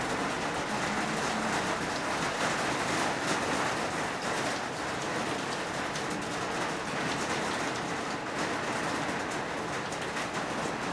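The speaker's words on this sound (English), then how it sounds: "when it rains you can hear it so much in this room and it's so relaxing." Rain heard from inside a sunroom, a dense, even hiss of drops pattering on the roof and glass, steady and fairly soft throughout with no talking.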